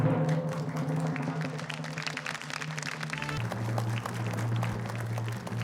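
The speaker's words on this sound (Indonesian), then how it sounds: "sekali lagi tepuk tangan yang lebih meriah untuk para caleg perempuan" A studio audience applauds women legislative candidates on an Indonesian televised candidate show: steady, dense clapping throughout, with music playing underneath.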